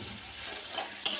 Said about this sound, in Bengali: পেঁয়াজ ভাজছি মাংসের,